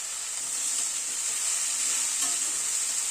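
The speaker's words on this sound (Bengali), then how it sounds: "পেঁয়াজটা দিয়ে মিনিট 2 মতো একটু নাড়াচাড়া করে নিলাম।" Onions stirred as they fry in oil for a spring-onion chachchari, giving a steady, even sizzle that stays close and continuous with light scraping under it, no voices.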